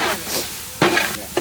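Garlic paste hits hot oil for beef tehari in two sharp, loud sizzling bursts with scraping stir sounds between, close by over a quieter bed of oil crackle.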